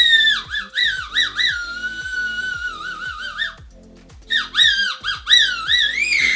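A Swiss warbler bird whistle, water-filled, is blown in bursts of bubbling, trilling, warbling chirps that swoop up and down in pitch, loud and close, with a short gap before a second burst.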